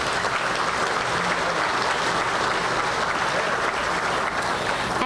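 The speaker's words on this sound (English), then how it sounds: "Let's give them a round of applause." A banquet crowd at a contractor safety awards dinner applauds the sponsors, with steady, even clapping from many hands filling the room and holding at the same level throughout, with no speech over it.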